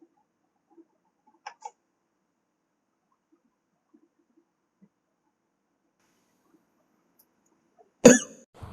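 Near silence, a couple of tiny clicks, then one sudden loud cough close by near the end, from a speaker with a sore throat during a live online class.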